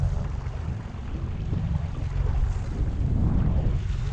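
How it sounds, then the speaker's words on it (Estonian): Rough waves slap and rumble against a fishing boat on Lake Peipus, a dense low wash with wind noise buffeting the microphone, continuous and close without speech. "lainetus on päris kole."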